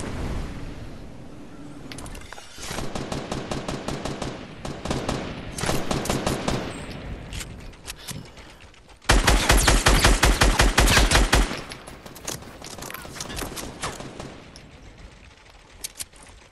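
Rapid automatic gunfire from a PS4 building shooter game, loud bursts of machine-gun fire in long rattling volleys with brief gaps, the heaviest stretch dense and sustained near the middle.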